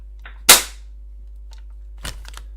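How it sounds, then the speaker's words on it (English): A springer airsoft shotgun fires BBs outdoors, one sharp airy poof followed by a fainter second report about a second and a half later, with quiet background between. "when you shoot it with BBs outside, the sound is very airy."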